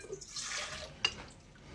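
A bubbly liquid mixture for bagel dough pours briefly into a bowl with a soft splashing rush, ending in a small clink, close by and fairly quiet.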